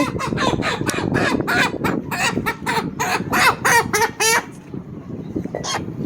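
Sixty-day-old chickens being vaccinated against cholera give a run of loud, harsh, honking squawks in quick succession, close by, before the calls drop off into quieter background noise.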